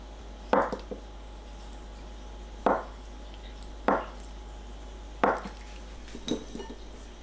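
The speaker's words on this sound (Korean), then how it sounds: "두부를 한입 크기로 썰어주세요." A knife cutting tofu into bite-size pieces on a board, four or five distinct clacks spaced a second or more apart against a quiet background, close and clear.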